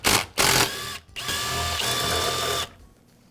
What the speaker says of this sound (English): I'll remove the screws that secure it.